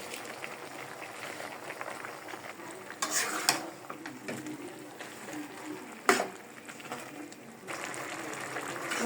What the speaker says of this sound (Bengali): শুটকির সাথে শক্ত ডাঁটাগুলো আর অল্প করে আলু একসাথে কষায় নিলাম